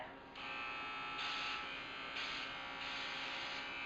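Electric hair clippers buzz steadily at close range after switching on, with a bright motor whine that shifts in tone a few times as they are moved.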